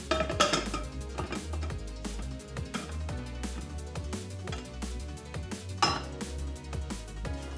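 A plate is set over a pan holding a savory Korean kimchi pancake and the pan is flipped, giving a quick series of close clinks and scrapes of ceramic against metal, with no talking.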